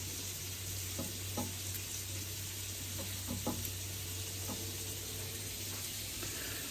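Deer tenderloins sizzling over a wood-fired grill, a constant crackling fry with a few sharp knocks and pops scattered through, steady and close.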